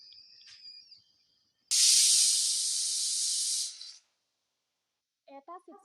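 A pressure cooker on a high gas flame, cooking kheer, lets out one loud sustained hiss of steam for about two seconds after a thin whistling tone, with brief speech afterward.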